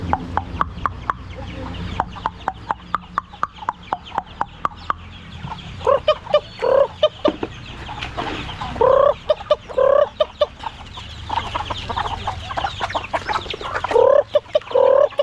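Chickens gather to be fed, giving repeated close clucks and a few louder squawking calls, with sharp tapping pecks throughout.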